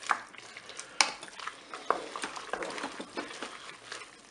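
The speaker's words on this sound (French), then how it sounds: "Je mélange." Spaghetti and chicken stirred in a Cookeo pot, heard up close as steady wet scraping and clinking of a utensil against the pot, with a couple of sharper knocks. No voices.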